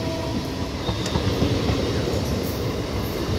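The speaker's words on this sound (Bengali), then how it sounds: "হাওড়া ব্যান্ডেল লোকাল ট্রেনটি ব্যান্ডেল রেলওয়ে জাংশন অভিমুখে যাচ্ছে।" A Howrah–Bandel local train runs toward Bandel Junction with a loud, continuous rumble and rattle of wagons, faint clacks and a thin squeal riding over the steady roar.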